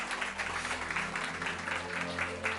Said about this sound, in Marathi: जरा जोरदार टाळ्या प्रभूच्या गौरवासाठी